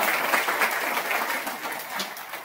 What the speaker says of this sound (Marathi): जोरदार टाळी वाजवतात.